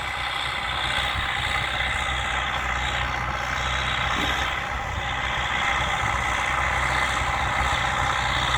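A tractor engine idles during spring ploughing, a steady low rumble with a faint vibration that holds loud and close without a break and no voices.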